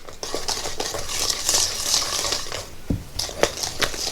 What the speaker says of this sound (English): It mixes up super, super easy.